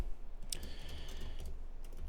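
Someone types on a computer keyboard to enter a coding question, with quick, soft, close key clicks in a short burst and no voices.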